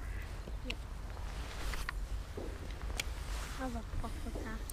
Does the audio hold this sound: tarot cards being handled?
no